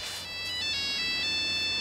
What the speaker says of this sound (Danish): Dr. Trælses mobiltelefon!